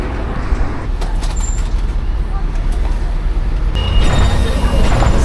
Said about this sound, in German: Wir sitzen im Bus, auch ganz oben im Doppeldecker.